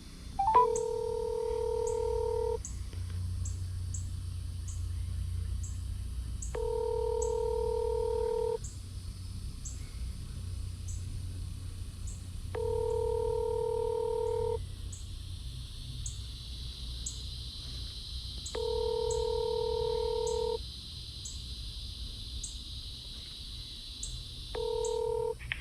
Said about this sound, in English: We're going to dial. See what happens.